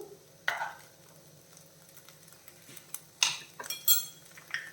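A tablespoon of ghee is stirred into an oats mixture in a pan, with faint low sizzling and a few sharp spoon scrapes and metallic clinks against the pan, quiet and close.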